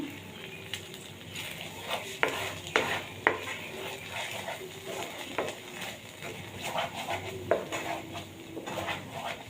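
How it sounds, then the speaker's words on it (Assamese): A corn kebab mixture with coriander leaves is stirred in a pan until dry, with repeated clinks and scrapes of a utensil against the metal over a faint, soft sizzle. "এনেকুৱাকৈ লৰাই লৰাই শুকান কৰিব লাগিব"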